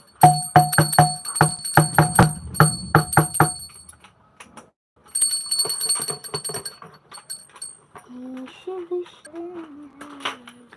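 A small temple bell rings repeatedly in quick, bright strikes during a home Hindu aarti prayer, joined by clinking metal, then falls silent before resuming; a voice speaks near the end.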